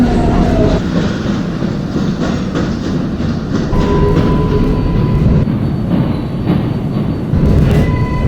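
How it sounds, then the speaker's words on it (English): A Roblox 7 Flushing Line subway train runs along the rails with a loud, continuous rumble and a steady rattle of wheels close by. "This is a Manhattan-bound 7-skip stop train."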